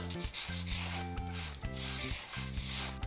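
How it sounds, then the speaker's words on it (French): A hand grater rasps along the edges of baked shortbread pastry to square them for a lemon meringue mille-feuille, giving a steady scraping rub over a sustained tonal background. "Vous prenez une râpe et délicatement, on va venir faire des beaux angles droits."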